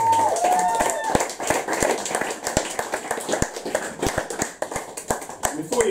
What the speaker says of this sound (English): So more applause, please, for Jasmine.